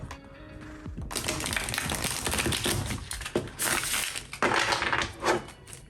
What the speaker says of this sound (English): one more shuffle and we'll